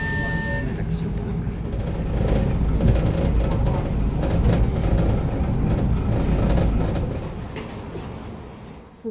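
Interior of a moving trolleybus in Kharkiv, a continuous low rumble of the ride with rattling mechanisms and a brief tone at the start, with some faint background noise.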